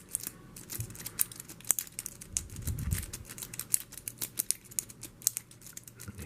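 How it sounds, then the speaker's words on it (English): A pick and rake work the pins of a Master No. 5 padlock, giving quick, irregular light clicks and ticks close up, some sharper than others, over quiet background scraping. "Hear those pins just a clicking."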